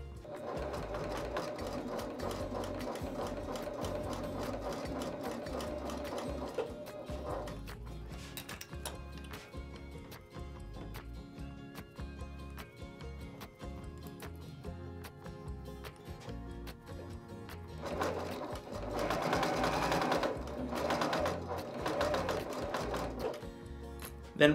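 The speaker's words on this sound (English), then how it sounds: "I like to start by sewing the opening first" A sewing machine stitches the opening of a scrap-fabric basket in steady, rapid runs with brief pauses, the whirring growing louder near the end.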